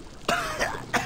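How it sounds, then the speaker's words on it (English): A man coughs twice in Gears of War 2, a rough, harsh burst followed by a shorter cough, close and fairly loud. "I'm coughing up blood that ain't mine."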